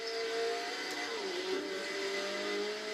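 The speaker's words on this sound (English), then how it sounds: "Makes a good noise, this car." Engine note of a car driven in Forza Horizon 4 on the Goliath route with no assists, a steady sustained drone with a rising and falling pitch through one shift, alone without talk.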